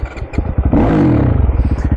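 A Honda CRF 480 supermoto, a dirt-bike-style machine built up from a 450, runs close by while being ridden, its engine note climbing in a sustained rev through the middle and staying steady and loud.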